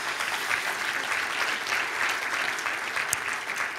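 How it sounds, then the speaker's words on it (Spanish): Church congregation gives a steady, full round of applause during a sermon, dense even clapping throughout with no speech over it. "Dale un aplauso ahí al Señor."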